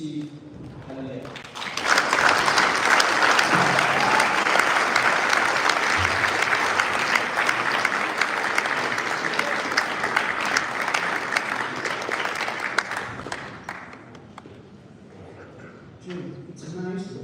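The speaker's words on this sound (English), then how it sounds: "let's please give a huge round of applause to Mr. Steve Killelea" Loud, sustained applause from a graduation ceremony audience, a dense wash of clapping that rises sharply, holds for about twelve seconds, then fades, with faint talk at the start and end.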